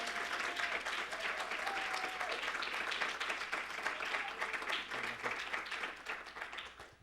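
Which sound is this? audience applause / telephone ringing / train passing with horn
audience applause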